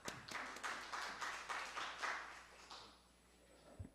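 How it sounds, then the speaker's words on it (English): Applause from an academic conference audience welcoming a session chair, a moderate patter of clapping that swells and then fades out by the end. "So please welcome him with applause."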